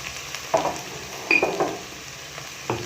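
Onions with a pinch of salt fried in a pan for chicken curry, with a soft continuous sizzle broken by three scraping stirs of a spoon, close and fairly quiet, with no talking.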